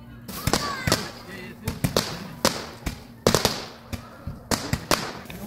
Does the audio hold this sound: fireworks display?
yes